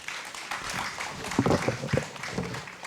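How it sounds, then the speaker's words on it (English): Audience applause at a festival session for a speaker and moderator, a brief steady patter of many hands with a few louder claps rising in the middle. "Another applause for our speaker and moderator."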